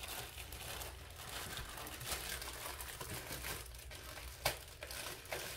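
A plastic bag around a diamond art canvas crinkles steadily for several seconds, with a few sharper rustles, close and fairly quiet.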